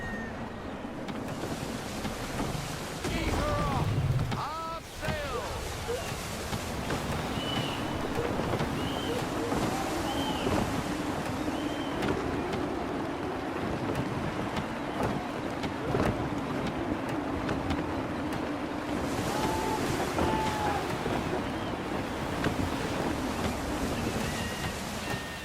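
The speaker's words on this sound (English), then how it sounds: "Try her at full sail. Wind looks to be shifting." Sailing ship at full sail in gusty wind and breaking waves in Assassin's Creed 3, a loud, steady wash of surf and wind noise throughout with occasional creaks and brief faint sounds on top.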